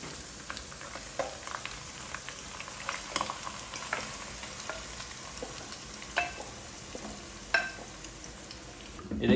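Marinated beef pieces sizzle steadily in hot ghee with onion paste for beef pasanday, a continuous close frying hiss broken by occasional stirring scrapes and clinks, with no talking.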